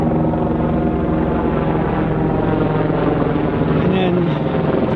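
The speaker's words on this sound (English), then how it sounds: "we have a helicopter coming overhead, right across the road from us" A helicopter passes overhead near a wildfire, a steady loud rotor and engine drone filling the whole clip without a break.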